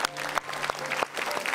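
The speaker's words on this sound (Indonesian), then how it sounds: "Ini kita harus kasih tepuk tangan buat ibu Pak Haji nih" A studio audience at an Indonesian television talk show gives a short burst of dense, continuous applause for a guest's wife, with a few louder claps standing out.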